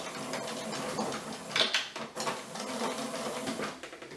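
Sewing machine stitching the seam of pajama pants, a close, steady rapid chatter of the needle running without pause, swelling slightly mid-way.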